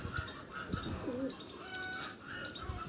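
Madras pigeons in a loft give soft, repeated throaty coos close by, with a few light chirps, set against a quiet room background.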